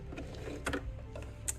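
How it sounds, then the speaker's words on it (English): A sewing machine running a reverse stitch on a bread bag kit, faint soft mechanical whirring with light clicks and ticks, quiet and close. "We want to start by doing a reverse stitch,"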